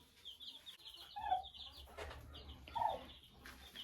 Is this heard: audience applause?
no